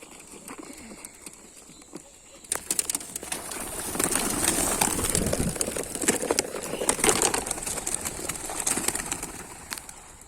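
Racing pigeons released for a 27-kilometre toss, a sudden burst of many wings flapping followed by dense fluttering and scattered soft coos, close and building, after a quiet start.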